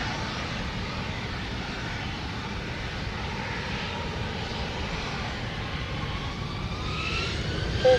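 Aircraft engine roar during takeoff in a flight simulator with a TBM960, Cessna C700 and Embraer E17, a steady, moderately loud jet-like whine and rumble holding evenly throughout.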